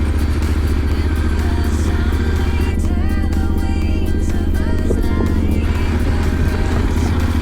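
Motorcycle climbing a steep road in the Várzea district, its engine a loud, steady close-up drone with rattling clatter and bumps from the rough surface throughout.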